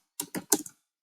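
A computer keyboard being typed on in three quick bursts of close keystrokes, then silence.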